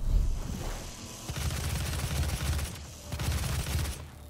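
Rapid automatic gunfire from the video game Doom, with two sustained crackling bursts separated by a brief lull, loud and close with no talking over it.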